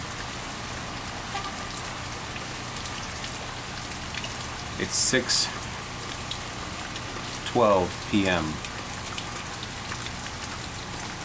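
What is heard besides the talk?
rain falling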